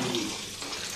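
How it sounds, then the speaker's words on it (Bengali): Water runs steadily from a tap while rice is rinsed in a home kitchen, a brief, close, continuous splashing rush with no talk. "দাঁড়া, চালটা ধুয়ে নিয়ে যাচ্ছি"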